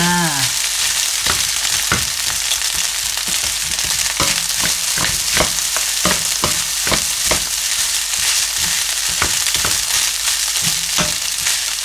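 Rice with Chinese sausage stir-fried in a pan, a steady close sizzle broken by repeated scraping and tossing clicks from the spatula, with no voices.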